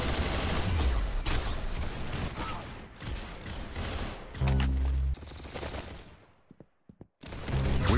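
Gunfire in the Roblox video game, dense rapid shots with game sound effects running almost throughout, a brief quiet gap near the end, then loud action again.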